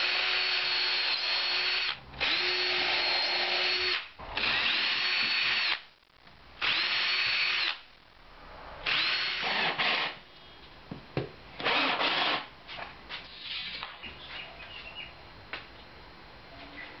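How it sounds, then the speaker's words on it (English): A power drill whirs while drilling pilot holes in timber, in repeated bursts of a couple of seconds each with short pauses between, then gives shorter, choppier runs toward the end. "making sure to drill pilot holes before gluing and screwing them in place"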